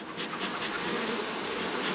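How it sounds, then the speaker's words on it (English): Honey bees swarm around an open home hive during a weekly inspection, a dense, steady close-up buzz filling the moment with no talk. "Bees, they don't want to move."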